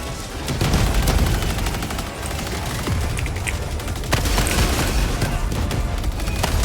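Dense bursts of gunfire and booming explosions from the video game Helldivers 2, a loud continuous barrage of shots with heavy low rumble throughout.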